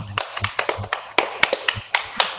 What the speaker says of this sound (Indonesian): Sebelumnya kita beri tepuk tangan dulu untuk Mas Zaki tadi yang sudah presentasikan.